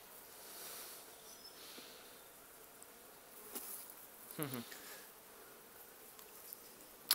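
Honeybees buzz faintly and steadily around an opened hive with broken comb, with a few louder passes close by and soft handling noises near the end.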